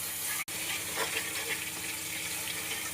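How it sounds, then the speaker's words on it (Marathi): Mustard seeds, cumin and garlic sizzling in hot oil, a steady close hiss of frying with fine crackles and one brief cut, no talking. "सुरुवातीला आपण टाकणार आहोत मोहरी, त्यानंतर थोडंसं जिरं, त्यानंतर लसूण"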